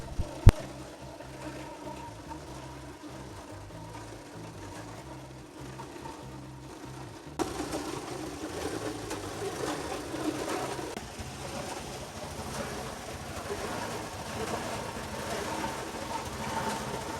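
A village machine crushes cassava tubers for gari, giving a steady mechanical rattle and hum that grows louder and busier partway through, with a few sharp knocks near the start.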